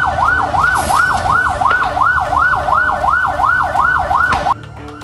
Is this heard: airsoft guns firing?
no